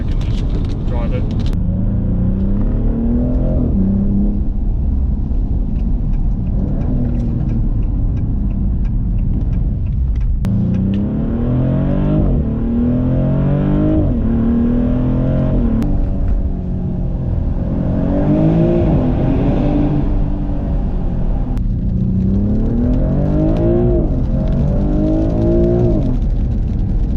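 A Maserati GranTurismo V6 engine drones steadily inside the cabin while driving, rising and falling with the revs, while someone talks over it throughout.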